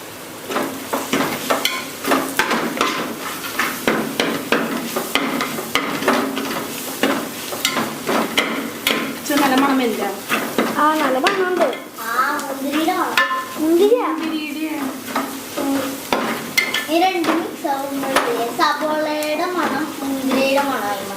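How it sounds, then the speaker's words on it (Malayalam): Beef curry ingredients sautéing in a pan until browned, with a steady close sizzle broken by frequent scraping stirs and clinks of a utensil against the pan, running continuously. "അപ്പോൾ നമുക്ക് ഇതാദ്യം ബ്രൗൺ കളർ ആവുന്നത് വരെ വഴറ്റി കൊടുക്കാം"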